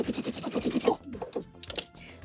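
A sewing machine stitches a dress seam in a quick rhythmic rattle that runs for about a second, then stops, followed by faint handling noises nearby.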